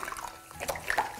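Water is poured over a toy puppy in a small baby-doll bathtub, giving soft splashing and trickling with a few bright drips, close and fairly quiet.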